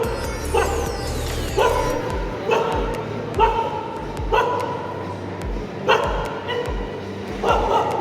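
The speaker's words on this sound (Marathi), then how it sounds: "मॉलमध्ये दोन डॉग घुसलेले आहेत कोणाची माहिती नाही खूप भांडणं करतायत" Two dogs fight inside a shopping mall, giving repeated loud barks and yelps in bursts roughly every second or two over a busy, echoing indoor background with people talking.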